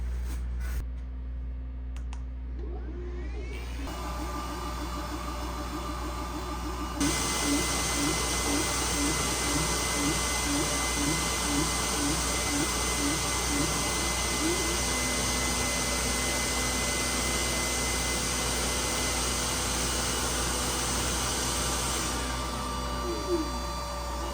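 A WeCreat 40W laser engraver runs a job with a constant fan-like whir and hiss, while a rhythmic mechanical chatter from the moving head pulses steadily underneath for most of the run.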